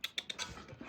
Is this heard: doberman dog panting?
yes